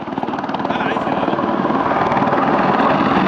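An attack helicopter fitted with a nose-mounted targeting sensor flies at the Yeovilton air day, its rotor thudding in a loud, rapid, steady pulse over a broad engine roar, with a commentator talking over it.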